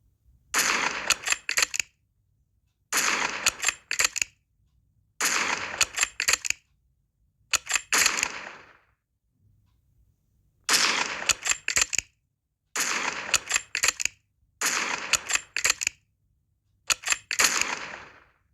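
Modded guns firing in Minecraft, in eight sharp bursts of rapid, crackling shots, each burst lasting about a second and separated by short silences, loud and close.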